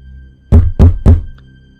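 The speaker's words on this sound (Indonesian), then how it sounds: "Suara ketukan keras itu terdengar lagi, namun kali ini berasal dari pintu dapur." Loud knocking on a door for a horror story, three heavy, evenly spaced thuds struck close by in quick succession, alone against near silence.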